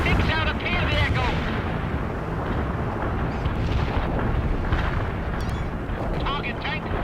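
A rumbling battlefield in the strategy game World in Conflict, with a tank destroyed amid continuous heavy explosions and artillery fire; radio-style voices talk over the din.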